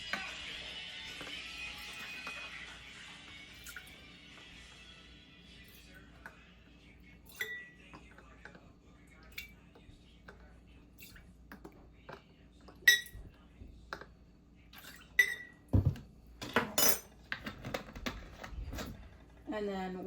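Quart glass canning jars being prepped, with scattered light clinks and taps of glass and utensils, quiet and sparse at first and growing busier and louder toward the end, while a person talks at the start.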